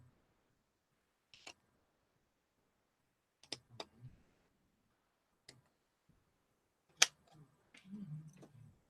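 Scissors cutting out a paper flower in a quiet room, a handful of sparse, faint snips and clicks spaced irregularly, followed by a soft rustle of paper.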